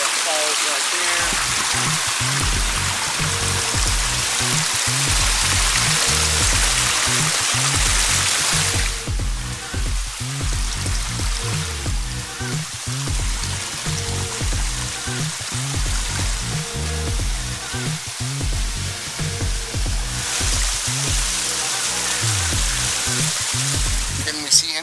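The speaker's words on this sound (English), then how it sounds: "just water is just falling everywhere throughout this system" Water tumbles through a garden water feature built from a system of falls, a constant splashing and trickling wash with a busy, rain-like texture that briefly dips midway.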